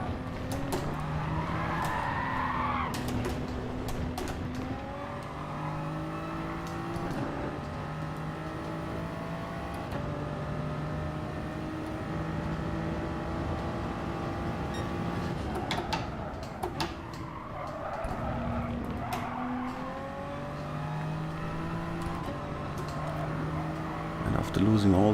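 Race car engine in GT Sport droning at a steady pitch that drops and rises as the car brakes and skids, with tyre squeal near 3 and 18 seconds, continuous and close.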